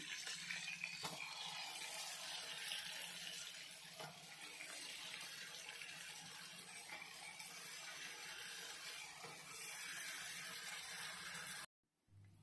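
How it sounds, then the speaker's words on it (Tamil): Onions sauté in melted butter in a kadai with a steady, soft sizzle and occasional stirring clicks, close and continuous with no talking, before it cuts off abruptly at the end. "வெங்காயத்தை கொஞ்சம் வெண்ணெயில் வதக்கி தனியாக எடுத்து வச்சாச்சு"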